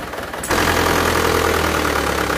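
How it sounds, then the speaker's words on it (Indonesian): An Isuzu Panther diesel engine with cast cylinder liners bursts into loud running and settles into a close, steady idle with a fast ticking knock from a faulty injector nozzle. "Jadi ini suara nozzle nih,"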